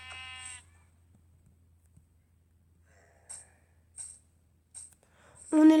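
A sheep in the video game Minecraft gives a short bleat at the start, followed by sparse faint game sounds and a louder burst at the end.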